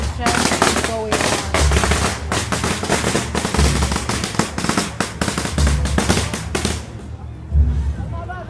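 Loud, close firecrackers rattle off in fast, continuous volleys during a Chinese Spring Festival Parade of the Gods, punctuated by deeper thumps before trailing off into quieter crowd murmur near the end.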